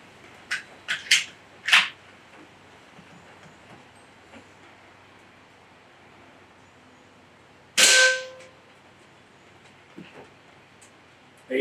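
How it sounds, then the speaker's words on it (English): An AEA Challenger bullpup .24 PCP air rifle fires 34-grain slugs into a box outdoors in a backyard: a quick cluster of sharp cracks, then a louder single shot after a quiet pause, with faint thuds and near-silence between. "We're going to put 3 shots into the box and see how far we penetrate."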